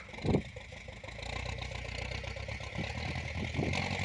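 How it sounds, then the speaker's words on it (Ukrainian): A YuMZ tractor engine drones steadily while pulling a Bomet disc harrow through a field, with a mid-pitched rumble that swells slightly near the end and a few clanks over it. "Дискуємо юмзиком. Дискова борона бомет."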